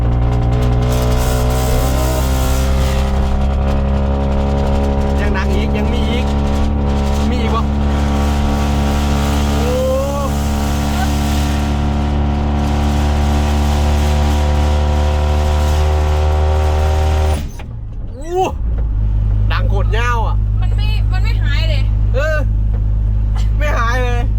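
Car engine revved through each gear, a loud sustained droning whine that climbs in pitch and holds, cuts briefly, then returns at a lower steady pitch while people talk over it.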